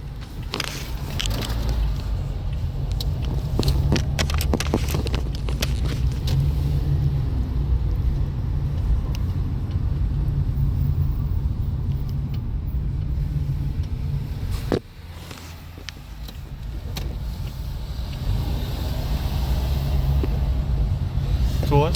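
Steady low engine rumble and road noise inside a 2019 Toyota Corolla XLE on an adapted-transit ride, loud and continuous throughout, with people talking in French over it and one brief dip in the drone partway through.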